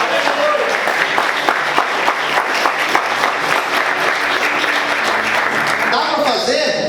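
A church congregation applauding during a sermon, loud continuous clapping with cheers mixed in, tapering off near the end as a voice resumes.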